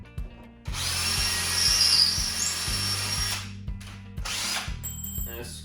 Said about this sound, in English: I'm going to pre-drill the holes with this drill bit here